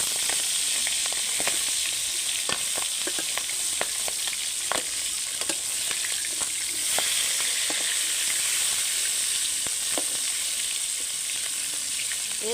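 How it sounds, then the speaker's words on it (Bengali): Pangas fish frying in oil in a black wok, giving a steady, loud, close sizzle with scattered sharp pops and crackles throughout and no talking. "এই মাছটা অনেক ফুটে ভাজার সময়।"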